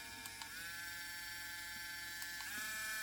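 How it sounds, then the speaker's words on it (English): A battery-powered, USB-charged three-speed Dremel-type rotary tool runs at a steady, quiet whir close by. Its pitch shifts a little partway through, with no talk. "it's battery USB charged, and I have a Dremel, like a brand name Dremel, that is too fast and it melts the plastic"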